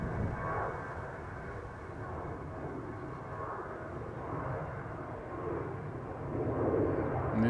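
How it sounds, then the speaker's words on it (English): An Airbus A319 jet airliner of easyJet, heard at an airport as a steady, faint, distant engine rumble and roar that stays low and even throughout. "And this is an A319,"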